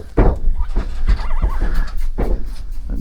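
Horses and colts nearby neigh and whinny, one call wavering clearly in the middle, with snorts and bumping sounds around them.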